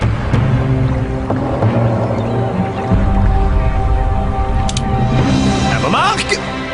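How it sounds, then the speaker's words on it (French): Water splashes and churns as someone stirs up waves, a continuous close, loud sloshing with occasional splashes, and voices are heard in the background. "Oh, j'adore faire des vagues."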